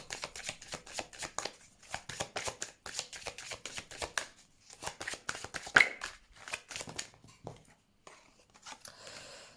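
Tarot cards shuffled in repeated rapid riffling bursts, then slapped down one by one onto a table during a reading, close and fairly quiet, with brief pauses between handfuls.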